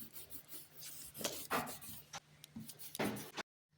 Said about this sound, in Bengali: আর এখানে লেবুকে শিলে ঘষে নেব।